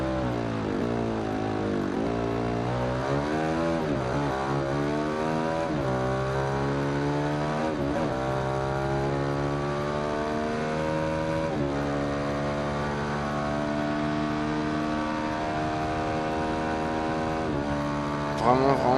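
Ducati Hypermotard 821 SP 2015 twin-cylinder motorcycle engine in the racing game Ride 2, loud and steady, revving up through repeated gear changes with rising then dropping pitch sweeps, continuous throughout.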